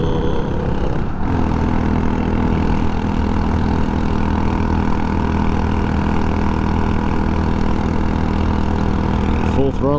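Scooter engine held at full throttle in third gear while climbing uphill on a long-distance Georgia-to-Virginia rally ride, a loud, steady droning roar that runs unbroken through the whole stretch.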